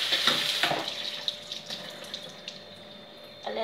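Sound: tap water running while rinsing raw chicken

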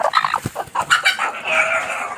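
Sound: pet hen clucking

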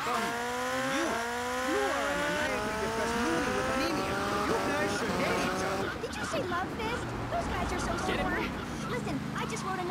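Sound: motorcycle engine and tires in video game GTA Vice City

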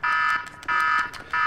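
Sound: alarm buzzer sounding, from the video game GTA V

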